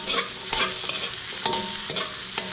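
Carrots stir-frying in a pan for sweet potato noodles with shrimp and vegetables, a continuous loud sizzle with regular scraping turns of the spatula, and no voices.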